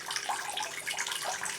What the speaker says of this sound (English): I'm going to water it over my bucket.